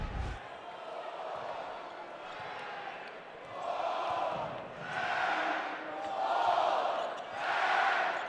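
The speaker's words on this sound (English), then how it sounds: "Crowd fully engaged here at Valvano Arena" Arena crowd at an NC State Wolfpack college basketball game against Western Carolina in Reynolds Coliseum, a steady roar swelling in repeated loud waves, with a commentator talking over it.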